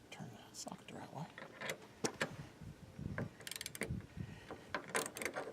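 Socket ratchet tightening a roof rack bolt on a Chevy Express van, repeated clicking ratchet strokes in short bursts, close by, with quiet talk in between.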